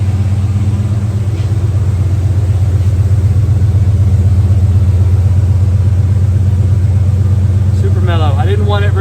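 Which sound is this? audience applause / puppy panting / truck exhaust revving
truck exhaust revving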